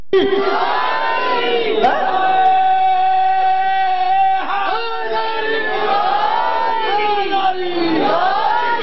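A crowd at a religious gathering in Okara shouts the Haidari slogan with hands raised, many voices swelling in loud, sustained waves of chanting that rise and fall without pause.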